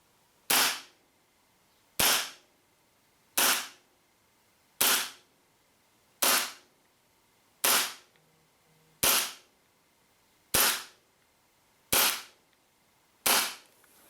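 Ten sharp, snappy pops from a WE airsoft gas pistol shooting 0.2 gram BBs on green gas, each shot fired alone at an even pace about every 1.4 seconds, close and loud, with no talking.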